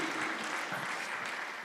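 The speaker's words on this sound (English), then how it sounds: "give applause for the Miss Eki Nastiti" Conference audience at an international agronursing conference applauding a speaker, a dense, even wash of clapping that stays fairly loud and steady throughout the short stretch.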